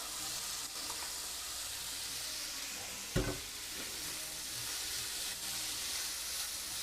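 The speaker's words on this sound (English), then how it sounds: "So now I'm going to add my black beans." Black beans sizzle and fry in a pan with garlic and onions, a steady close crackling hiss with one sharp clatter of a spoon or pan partway through.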